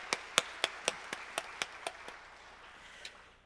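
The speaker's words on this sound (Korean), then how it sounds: "하나님께 영광의 박수 드리겠습니다" A church congregation at a special dawn revival service gives a short burst of applause: about ten distinct, fairly loud synchronized claps in a steady rhythm, then fading out with one last clap.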